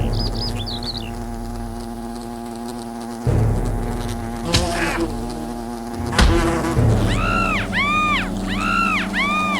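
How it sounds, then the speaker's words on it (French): Wasps buzz in the video game Fable Anniversary, a droning insect hum with rising and falling whines that swoop past in repeated arcs, loud and close, with brief thuds of game action mixed in. "Des guêpes!"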